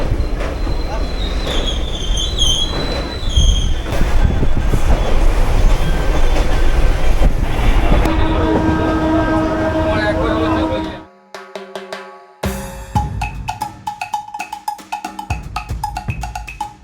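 A local train on the Kolkata–Bethuadahari route rolls in with a loud, steady rumble and squealing wheels, then slows, with clanks and brake hiss near the end; a voice speaks faintly.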